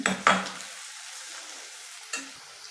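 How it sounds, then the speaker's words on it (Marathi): Onions sautéing in oil until golden brown, alongside bay leaf, cinnamon, cloves and ginger for butter chicken, with two quick scraping stirs at the start, a faint sizzle, and one more stir near the end. "कांद्याला गोल्डन ब्राऊन कलर येईपर्यंत परतून घ्यायचं"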